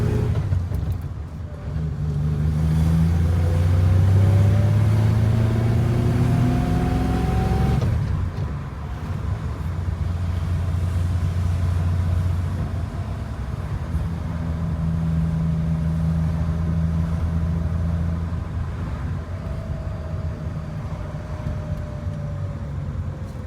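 Engine of a 1965 Ford Falcon with a five-speed gearbox heard from inside while driving, rising in pitch under acceleration, dropping off at a shift, then pulling again as a steady, loud drone.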